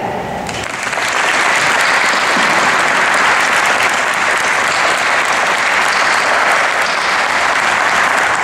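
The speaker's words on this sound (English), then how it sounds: "join us in a round of applause so loud that it reaches Tennessee" Loud, sustained audience applause at a university pre-commencement hooding ceremony, breaking out after a quiet start and continuing steadily to the end.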